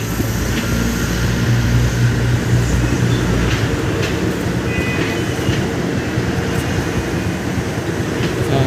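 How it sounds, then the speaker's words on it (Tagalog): A new Indonesian-built passenger train rolls past nearby on the line toward Tutuban, Manila, with a steady low rumble and rail noise, continuous and fairly loud throughout, with faint squeals on top. "Ayan o, yung bagong train na binili sa Indonesia."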